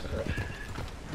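Horse hooves clip-clop in a fast galloping rhythm in a video game, quiet and short, with faint background sound beneath.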